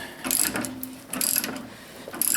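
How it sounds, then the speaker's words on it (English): Ratchet clicking as the threaded rod on a coil spring compressor is tightened down on a 1964 Impala coil spring, three close bursts of rapid mechanical clicks with short pauses between. "I'm just tightening that rod down on that coil compressor"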